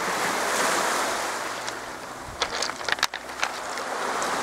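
Gentle surf washes onto a calm beach at Helvic, County Waterford, a soft steady roar of waves with light wind buffeting and a few brief knocks near the microphone.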